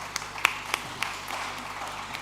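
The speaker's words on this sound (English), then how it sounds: "Please give Right Honorable Dr. Abike Dabiri another round of applause." An audience at a closing ceremony of a Nigerian conference gives scattered applause. A handful of sharp individual claps stand out over a thin, fading patter that dies down within two seconds.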